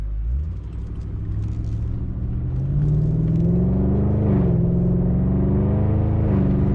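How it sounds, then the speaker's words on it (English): A tuned Audi S8 D4 V8 engine idles with a deep, steady burble, then rises into a louder, smooth rev that holds and wavers, close and alone with no talk. "That V8 sound"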